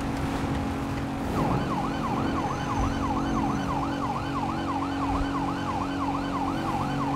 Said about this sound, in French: quand j'ai un véhicule de police avec les sirènes dans les mains, eh ben je m'éclate